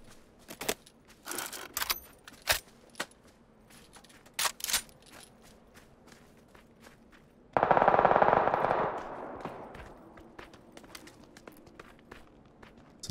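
Sharp bursts of gunfire crack out in a video game shooter, then a dense automatic machine gun burst rattles loudly near the middle before fading, with scattered footsteps and clatter between.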